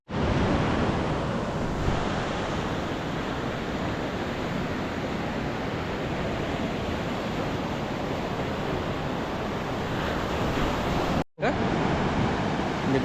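Sea waves on the beach at Devgad make a loud, unbroken roar of surf with wind buffeting the microphone, cut off abruptly for a moment near the end.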